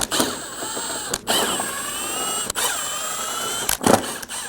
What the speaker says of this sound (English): we're going to remove all of the 10mm bolts going across the front.